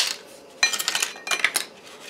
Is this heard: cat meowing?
no